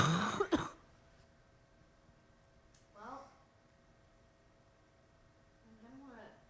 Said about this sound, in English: I coughed and I thought I muted it